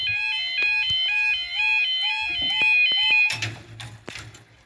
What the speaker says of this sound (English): Good lord, those alarms are loud.